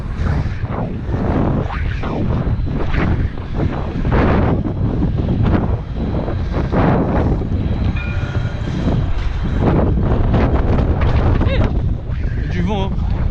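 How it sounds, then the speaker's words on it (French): Strong gusting wind roars and buffets the microphone while riding a Mafia Bike, heavy low rumble throughout with brief pauses, and a voice speaks faintly under it. "Du vent, hein. Ah, du vent ça."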